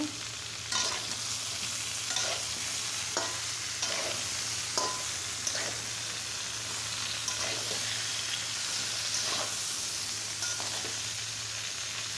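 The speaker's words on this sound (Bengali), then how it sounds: "আপনারা 5 মিনিট ধরে সুন্দর করে তরকারিটা ভেজে নেবেন।" A vegetable curry with drumsticks fries in a pan, a constant close sizzle broken by regular spatula stirs and scrapes roughly every second, with no talking.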